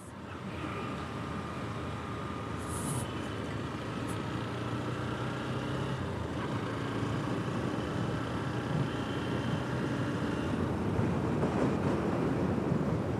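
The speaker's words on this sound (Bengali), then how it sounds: "বাতাস আছে মোটামুটি।" Steady wind rushes past under muggy, overcast weather, a broad low roar that builds slightly over the clip with no voices.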